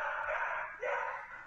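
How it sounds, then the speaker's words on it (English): A dog barks and yips in a short burst, close and fairly loud, with a whining edge between barks and no talk over it. "it was ultimately barks from Bruno that scared the bear away"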